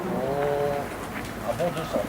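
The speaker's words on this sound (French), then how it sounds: "Alors les pigeons, nous allons en lâcher une centaine peut-être, plus." Pigeons coo softly in short bursts from a large flock held in a transport trailer before release at a heritage day event, heard beneath someone talking nearby.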